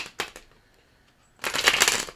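Tarot cards shuffled close up in two bursts: a short riffle of a few quick flicks, a pause, then a longer, louder run of rapid papery shuffling.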